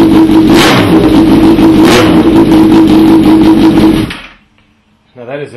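A Honda CBR1000RR sport bike engine on straight headers with no pipe revs hard and very loud for about four seconds, a steady high-pitched roar that cuts off abruptly, followed by a brief quiet gap and a little faint noise.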